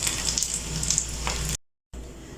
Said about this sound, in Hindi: और बाकी सबको भी फ्राई कर लूँगी